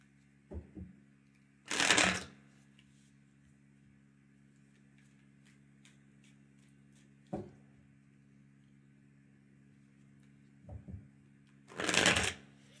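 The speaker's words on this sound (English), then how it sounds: "I wanted to shuffle those again." Tarot cards are shuffled in two quick riffling bursts several seconds apart, with soft taps and handling noises between them over a faint steady hum.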